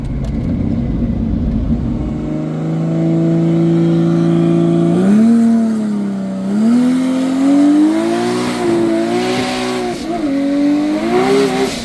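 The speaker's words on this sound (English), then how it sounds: "Good burnout." Billet 2JZ-powered Toyota KE70 panel van at a roll racing event, engine roaring in a sustained burnout with tire screech, revs rising and wavering over several seconds, loud and close.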